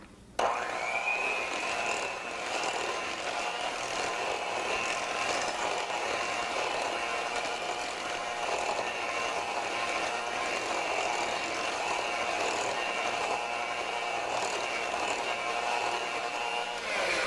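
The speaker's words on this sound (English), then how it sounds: "So then you're going to beat this until smooth." An electric mixer beats a sweet potato casserole mixture with evaporated fat-free milk. It starts abruptly and then runs at a steady, loud whirring drone with no break, and no one speaks.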